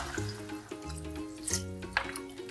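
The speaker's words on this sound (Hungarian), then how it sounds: "hogy hozzon vizet, amivel felönthetjük" Water is poured from a vessel into a pot of green bean stew, a soft, steady splashing and trickling with small irregular drips, heard close and fairly quiet.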